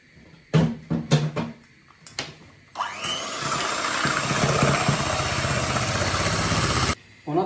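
After a few clatters and bumps, an electric mixer whirs up loud and steady while whipping egg whites for a Swiss meringue, running several seconds before cutting off abruptly.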